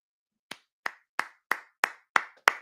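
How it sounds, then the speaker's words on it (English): Seven crisp, isolated hand claps from a single person on a sports talk stream, spaced about a third of a second apart in a steady, slightly quickening rhythm, close to the mic against otherwise silent background. "Round of applause for Ray."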